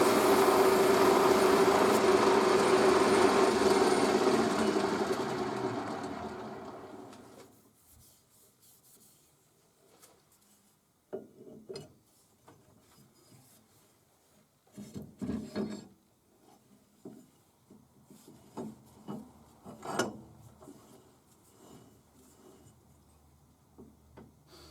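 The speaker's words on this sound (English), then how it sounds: "I've got to drill 7/16 down the centre then." A drill bores a 7/16 hole down the centre of a centre stand shaft for a BSA B31 motorcycle. A loud, steady grinding whine runs for about seven seconds, then cuts out, leaving scattered clinks and scraping handling noises.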